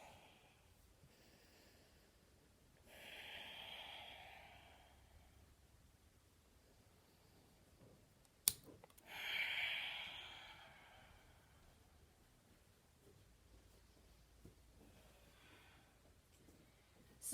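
Slow, deep breaths taken in a yoga child's pose, two soft breathy swells drifting in and out over a quiet room, with a brief sharp click between them and faint rustling.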